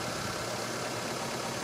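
A small car's 1.6-litre four-cylinder engine idles smoothly with even, steady revs, giving a continuous close-up hum with no talking.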